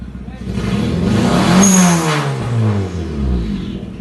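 A Toyota Innova with a twin-turbo engine revving hard, the pitch climbing and sweeping back down in a loud, close surge, with a high turbo whine on top and a voice talking under it.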